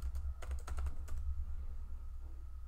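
Keystrokes on a computer keyboard typing a search term into an extension search, a quick burst of clicky taps then a few more, close and alone over a steady low hum.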